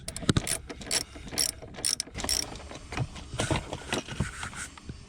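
A ratchet clicks in quick bursts while undoing a 10 mm nut on the negative terminal of a Dodge Durango car battery, close and crisp with short pauses between strokes.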